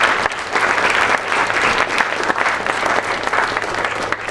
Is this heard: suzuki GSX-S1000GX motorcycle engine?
no